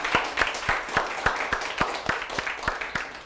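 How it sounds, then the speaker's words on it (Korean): An audience at a lecture show claps in regular unison beats, roughly three per second, with sharp, loud, evenly spaced hits over a lighter patter of scattered hands. "박수 한번 보내주시죠."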